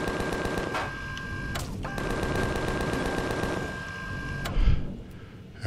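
Rapid automatic gunfire in the video game Empyrion Alpha 8.2, a steady stream of loud repeated shots with a sustained tonal hum, briefly interrupted once, then tapering off near the end.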